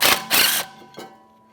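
A tool turns a T30 Torx rotor mounting bolt on the rear brake hub of a 2014-2022 Chevrolet Trax, making a few short, close mechanical clicks and rasps that fade quickly.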